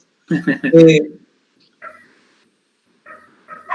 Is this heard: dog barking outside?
yes